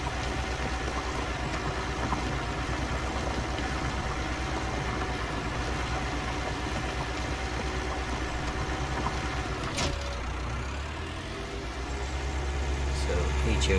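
A steady, droning tractor engine in Farming Simulator 19, a Valtra G Series, hums continuously at a constant pitch while going downhill, dipping briefly near the end before rising again, with a faint mechanical whine over it.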